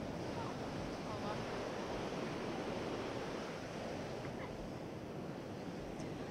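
The roaring Hukou Waterfall on the Yellow River in winter gives a steady broad rush of falling water, heard from a distance with wind noise on the microphone.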